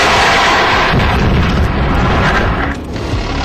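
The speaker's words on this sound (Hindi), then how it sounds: "इसके बाद दनादन आतंकियों के ठिकानों पर बम बरसा दिए गए।" Bombs rain down on ISIS hideouts during a night airstrike, loud deep booms and rumbling blasts merging into a continuous roar with no talking.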